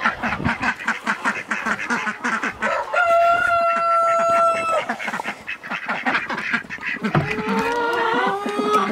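Chickens and ducks being brought indoors cluck, quack and call continuously up close, with a drawn-out crow-like cry in the middle and busy overlapping bird chatter throughout.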